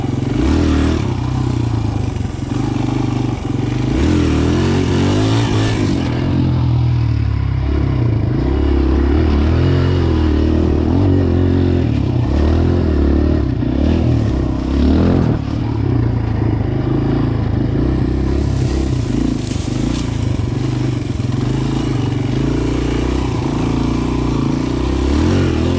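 A 2020 DZR 125 pit bike engine revs hard and loud on rough ground during a wheelie attempt, close by and continuous, with rattling and clattering throughout.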